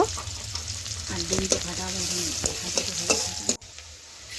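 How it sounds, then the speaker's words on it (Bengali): Chopped onion fries in hot oil in a pan with a steady close sizzle, broken by spatula stirring and scraping and a faint voice in the background, before it suddenly drops quieter near the end. "এখন দিয়ে দিলাম আমি পেঁয়াজ কুচি। পেঁয়াজ একটু ভালোভাবে ভেজে নেব।"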